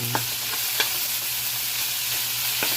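Ground meat sautéing in a pan for a vegetable coconut-milk stew, a steady broad sizzle with a few sharp clicks of a utensil scraping and stirring, close and continuous with no talking.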